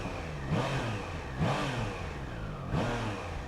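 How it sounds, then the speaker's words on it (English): A Triumph Trident 660 motorcycle engine revved three times from idle, each blip rising and falling smoothly over a steady mid-pitched idle rumble, close and fairly loud. "Full tank, it's okay, we can rev."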